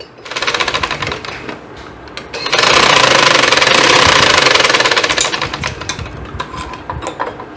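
A sewing machine runs in steady bursts while stitching a side pocket, its close, loud mechanical chatter rising into a sustained run in the middle, with no voices.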